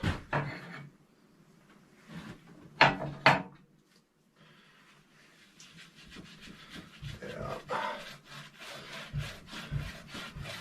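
A thick homemade wax finish made with mineral oil is worked into a wooden cutting board by hand: close, scratchy rubbing strokes, a few louder scuffs early on, then steady continuous rubbing with no talk.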